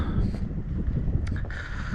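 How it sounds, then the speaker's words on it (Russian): Steady low roaring wind rumble fills a large tunnel cut through rock at Inkerman, Crimea, constant and loud, with occasional faint higher hisses drifting through. "Здесь ветер дичайший."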